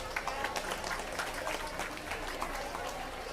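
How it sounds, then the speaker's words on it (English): A crowd at a youth swine market show claps for a young man's barrow, a brief patch of moderate, even applause that sounds somewhat distant. No voices are heard. "Let's give him a round of applause."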